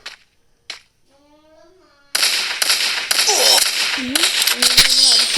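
Gunfire in the Free Fire video game: after a quiet start with a brief voice, loud rapid shots and bursts burst in close, mixed with whooshing in-game effects.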